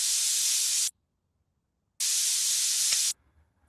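Two loud bursts of steam hissing from a pressure cooker's whistle in a home kitchen, each about a second long with a gap of silence between, close and steady, no voices.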